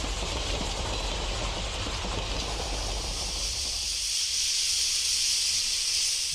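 A train runs on its rails with a continuous, loud rumbling roar that shifts to a brighter hiss partway through, close and alone.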